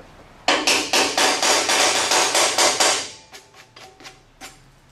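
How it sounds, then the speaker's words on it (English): A hammer chips slag off a freshly welded butt joint with about ten rapid, sharp metallic taps close by, then a few slower, lighter knocks as the chipping trails off. "let's chip the slag off, see how we did"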